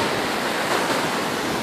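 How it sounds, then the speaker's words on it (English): Ocean waves at the beach roll and crash in a steady, loud broadband wash, with wind buffeting the microphone throughout and no voices. "I go out here in these waves"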